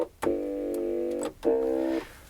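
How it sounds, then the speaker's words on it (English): Casio TA-10 toy keyboard playing its tuba voice: two sustained, buzzy low notes, the first held about a second, a short gap, then a second shorter note, close and clear with no talking. "this keyboard doesn't have any bass sounds other than the tuba sound,"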